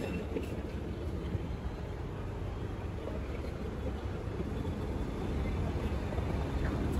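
A passenger launch travels at night on the river from Dhaka to Chandpur, its low engine drone and rushing water and wind forming a steady, even rumble throughout.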